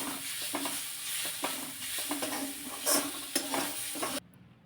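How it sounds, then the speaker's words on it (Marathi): Roasted peanuts and a pinch of asafoetida sautéed in hot oil, with a bright close sizzle and regular clicking stir strokes before a sudden stop. "तेल चांगलं तापलं की लगेचच यामध्ये चिमूटभर हिंग घालायचं, थोडेसे भाजलेले शेंगदाणे घालायचे आणि चांगलं हे परतून घ्यायचं"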